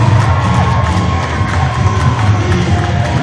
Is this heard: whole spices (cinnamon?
no